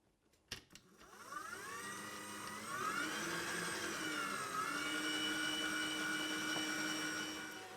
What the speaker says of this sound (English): Now I'm going to turn the mixer up to a high speed and mix it until the dough starts to form a nice ball.